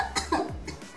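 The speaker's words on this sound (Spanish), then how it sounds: "¿Pueden creer que no se me quita la tos?" A couple of short, close coughs in quick succession, sharp and husky, with no talking.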